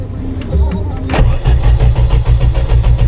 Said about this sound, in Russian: Так, ну что, запускаем автомобиль.